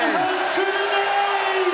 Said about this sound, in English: That's acknowledging the huge cheer he got for winning that set.